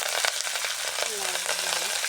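Garlic sizzles steadily in hot oil in a pan, a continuous close frying hiss with faint crackles and stirring, alone without talk.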